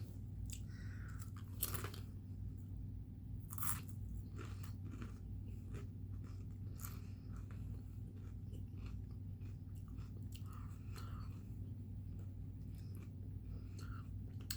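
Someone chews and crunches a strawberry pastry snack close to the mic, with soft, repeated bites and mouth sounds over a quiet, steady background hum.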